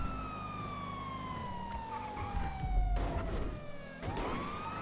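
Police siren in the GTA roleplay video game, a steady wail with a long falling tone that sweeps back up near the end, heard over a continuous engine rumble and game traffic noise.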